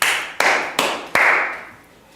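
Four sharp claps ring out alone at a steady pace during a live stream celebration, each one bright and close with a short decaying tail.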